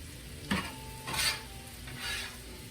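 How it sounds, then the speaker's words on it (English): Mushrooms sizzle in a Dutch oven while being stirred, with a few scraping bursts over a steady, soft frying hiss. "I love that sizzle"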